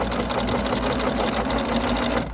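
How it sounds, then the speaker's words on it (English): A sewing machine hums steadily and fairly loudly while stitching a quilt block seam, its rapid needle rhythm running unbroken before easing off at the very end. "So we're going to sew this"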